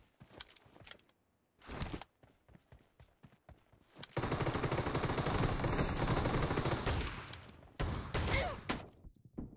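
Video game gunfire sounds in several short bursts, then a long sustained automatic volley that is loud and close, followed by more scattered shots.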